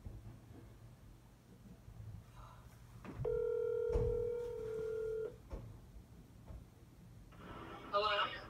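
A phone call being placed: a steady electronic ringback tone sounds for about two seconds amid quiet room noise, followed by soft knocks and a brief voice at the end.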